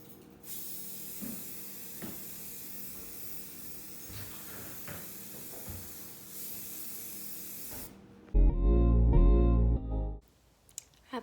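Heirloom white satin spray paint hissing onto lamps in long steady bursts close to the can, with small clicks between passes, ending in a short louder rumble.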